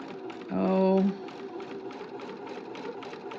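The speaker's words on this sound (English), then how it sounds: "We're just going to sew just to the right of it" Home sewing machine running a basting stitch to mend a dart, a short whirring burst of rapid stitching followed by soft mechanical ticking, with a person talking over it.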